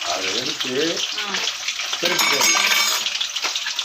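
Fish pieces fry in a pan with a bright crackling sizzle, while a voice briefly sounds underneath.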